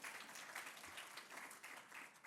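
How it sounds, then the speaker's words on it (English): A crowd at a British Columbia talent-development event breaks into brief applause, soft, even clapping from a mid-distance audience with no one speaking. "yeah, that's a clap moment"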